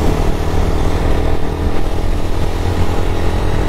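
A Hero Xtreme motorcycle on a hot road, a loud, steady engine drone passing close by, filling the whole clip with no talking.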